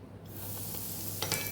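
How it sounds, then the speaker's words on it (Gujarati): Asafoetida hits hot oil in a pan while a Kathiyawadi white kantola vegetable dish is being cooked, and a sudden hissing sizzle rises sharply and keeps building, with a couple of sharper spits near the end. "તો અહીં આપણું તેલ સરસ ગરમ થઈ ગયું છે, તો 5 ચમચી જેટલી હિંગ ઉમેરી દઈશું"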